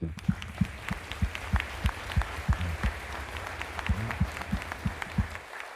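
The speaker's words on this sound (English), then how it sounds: "give the family a round of applause" Applause from the audience at a Navy retirement ceremony honoring a retiring captain and his family, with steady clapping and sharper individual claps standing out over low room murmur.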